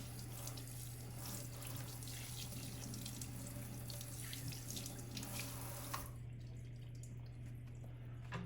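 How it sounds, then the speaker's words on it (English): Warm tap water runs steadily into a sink to rinse brined salmon, giving a continuous soft splashing hiss over a low electrical hum. The flow thins out abruptly near the end. "I'm gonna go ahead and rinse all this off."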